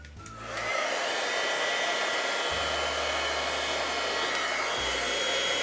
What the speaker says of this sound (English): now I'm going to hit this with the heat gun